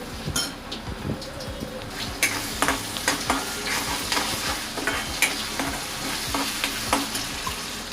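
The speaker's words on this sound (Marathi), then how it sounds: "हा तुम्ही बघू शकता आपला इथे कांदा थोडा फ्राय होत आला आहे" Chopped onion sizzles in oil in a kadhai with ginger paste added, a steady frying hiss under repeated scraping and knocking of a spoon stirring against the metal pan, close and continuous.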